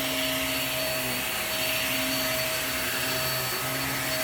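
A vacuum cleaner runs steadily at close range, a loud, even motor whine with a constant tonal hum and no pauses or other sounds.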